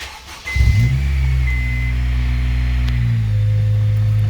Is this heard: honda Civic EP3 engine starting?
yes